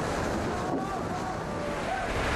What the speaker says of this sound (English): Typhoon Haiyan has made landfall over here.